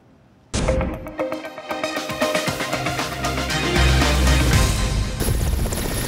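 A helicopter at a relief supply site and landing pad in an open field in Buzi, Mozambique, roars up suddenly and stays loud and close, its dense rotor and engine noise building steadily.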